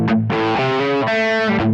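Burny LG-75JP Joe Perry Les Paul electric guitar, made in Japan, with modified electronics and distorted tone, strumming a few sustained, ringing chords up close with no talk.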